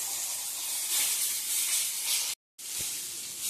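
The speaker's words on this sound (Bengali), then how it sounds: "মাছ ভাজা আমাদের হচ্ছে।" Fish frying in a pan hisses steadily and loudly up close, a dense spitting sizzle that cuts out briefly and then resumes.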